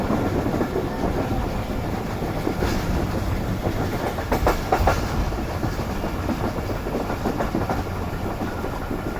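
Rehman Baba Express passenger train approaching Sarhari railway station on a curve, a loud, steady rumble of wheels with rhythmic clickety-clack from rail joints throughout, no talking.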